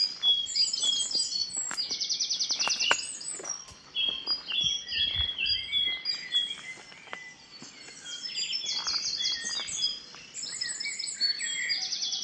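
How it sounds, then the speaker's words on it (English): Great tits call and chirp outdoors among other birds, with repeated bright, sharp two-note calls among other tweets, moderately close and continuing throughout. "It's a great tit that's making that choo choo choo noise."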